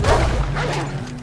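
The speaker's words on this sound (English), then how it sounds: "Bark, bark, bark." A dog in Red Dead Redemption 2 gives a quick burst of loud, close barks mixed with sharp game sound effects in one short flurry.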